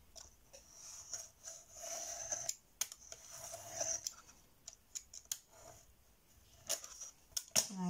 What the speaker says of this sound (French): on va couper un peu parce que je trouve que c'est trop large